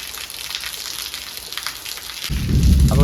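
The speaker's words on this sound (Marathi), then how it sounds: "गडगडूक लागला आहे म्हणजे पहिलो पाऊस आलेलो आहे अशा तऱ्हेन" Thunder and the first monsoon rain in the Konkan region, a steady hiss of rain with a deep rumble of thunder rising loud near the end.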